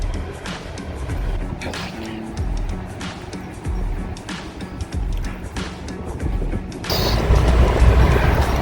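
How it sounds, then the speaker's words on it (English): Full-size Ford Explorer conversion van on a test drive, with a steady engine and road rumble heard from inside the cabin and a brief louder surge near the end. "we are going to do a test drive in a Explorer conversion van, full-size van"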